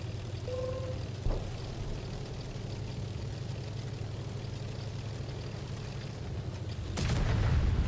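A tank cannon in World of Tanks console Modern Armor fires late on, one sharp heavy blast followed by a deeper booming rumble, after a long stretch of steady engine-like drone with a faint earlier thump and tone.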